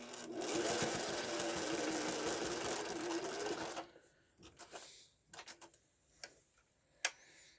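A sewing machine stitches pleats into a fabric face mask, running in a steady, close whir for about four seconds before stopping, then a few soft handling clicks and taps follow.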